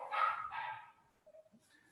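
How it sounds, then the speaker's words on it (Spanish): Two quick dog barks sound near the microphone, fairly faint, followed by a short whimpering yip, with no talk over them. "¿se escuchan los perritos?"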